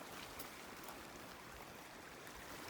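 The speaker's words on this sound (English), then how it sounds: "Surrounded by creek." Steady broadband rush of a mountain creek running alongside a spring hiking trail in Southern Kananaskis, a continuous close wash of flowing water with no voices.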